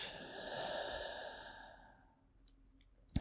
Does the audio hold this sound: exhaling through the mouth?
yes